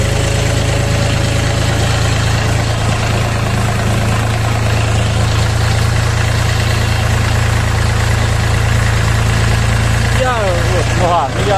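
A Dongfeng 244DHX mini tractor engine pulls away smoothly in first gear, a steady, loud, low diesel throb that runs without a break from start to finish, with a voice talking over it near the end.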